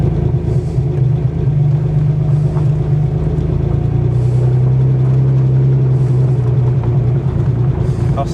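The six-cylinder engine of a 1988 TVR S1 rumbles loud and steady from inside the car as it is driven, holding a low droning note that rises slightly midway.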